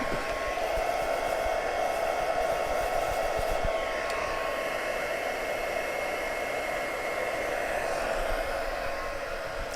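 A heat embossing tool for crafting blows hot air in a steady, loud, continuous whoosh, unbroken from start to finish with no talking.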